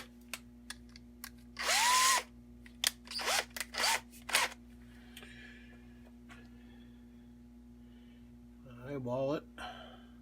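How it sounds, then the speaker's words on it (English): Power drill boring a 7/64 hole into wood, heard as a few short whirring bursts with pauses between, close up, followed by a longer rising spin near the end over a steady electrical hum. "we want to drill this so we don't split it"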